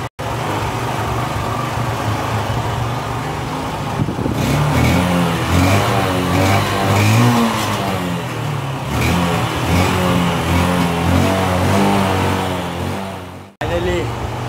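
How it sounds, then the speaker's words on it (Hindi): A motorcycle that sat unused for five years runs after many kick-starts, a close, loud, steady engine idle with rhythmic firing pulses and slight revving while it warms up, with talk over it. "आफ्टर 50 या 100 किक मारने के बाद आवाज आ रही है"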